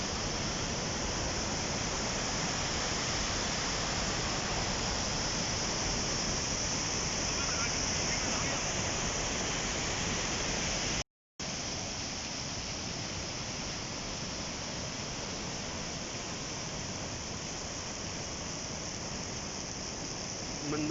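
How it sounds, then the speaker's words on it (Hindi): The Mandakini river rushing downhill in the mountains near Kedarnath, a dense, constant roar of flowing water close by, broken only by a split-second dropout midway, with no voices. "मंदाकिनी नदी"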